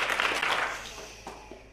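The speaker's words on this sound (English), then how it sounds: "If you can hear me, clap 2 times." An audience answers a call to clap twice on cue, producing a short burst of clapping at the start that quickly fades, with a couple of faint claps trailing afterward.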